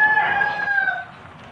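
A gamecock bred for cockfighting crows once, close and loud, at a brother-in-law's poultry farm in Mindanao. The call is drawn out and fades after about a second.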